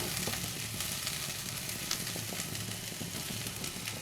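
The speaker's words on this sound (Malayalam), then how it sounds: "സിമ്മിൽ വെച്ച് നമ്മളിത് നല്ലപോലെ ഒന്ന് മിക്സ് ചെയ്യുന്നു" Beans stirred in a pan over low heat for a vegetable dish cooked without added water, giving a steady soft sizzle with faint scraping and light taps, close and continuous, no voices.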